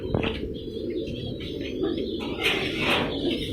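Pigeons kept as breeding pairs in separate compartments of a breeder's loft coo steadily in low, overlapping murmurs, with occasional chirps and a brief flutter of wings close by.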